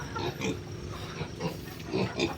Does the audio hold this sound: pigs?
yes